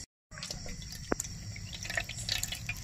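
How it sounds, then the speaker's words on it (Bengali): Water drips and trickles from boiled cabbage being squeezed by hand, faint patters and small splashes over a low background hum, close and quiet with no talking. "এবার আমি এগুলো তুলে নিচ্ছি, নিগড়ে নিগড়ে তুলে নিচ্ছি। পুরো জল থাকলে হবে না"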